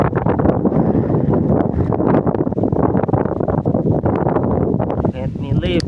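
Strong wind buffets the microphone on a kayak at sea, a loud continuous roar with gusts, and a voice speaks briefly near the end.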